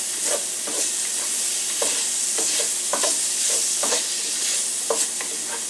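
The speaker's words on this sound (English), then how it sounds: "I dang near burnt them onions and stuff" Onions hiss and sizzle in a hot pan while a utensil scrapes and stirs them in regular strokes, loud and close.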